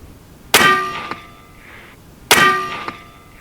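A .58 caliber rifle bullet hits a large steel gong target twice, each strike a loud bright clang that rings and fades over about a second, the two hits well apart.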